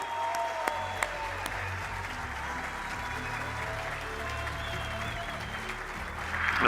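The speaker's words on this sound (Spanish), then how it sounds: "Démosle un fuerte aplauso." Steady, dense applause from a conference audience at the Sigma Summit 2024 greets speaker Pablo Gil, a continuous wash of clapping with a few sharper claps that swells slightly at the end.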